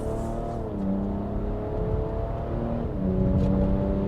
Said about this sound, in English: putting the car on sport because now I have a little bit more room for playing around with it, and I'm doing about 60 kilometers per hour, 2000 rpm, foot down on the throttle